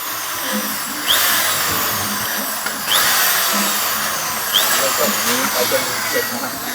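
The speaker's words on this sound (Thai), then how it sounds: "เราเจาะเข้าไปครับ" A power drill whines steadily as it bores into a metal part of an A5 Turbo pellet press machine, with the grinding surging at intervals and someone talking alongside.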